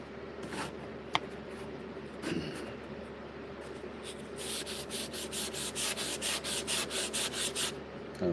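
Blade being sharpened toward a mirror finish on a stone gives soft, close scraping and rubbing strokes, growing into a quick rhythmic series of gritty swipes near the end.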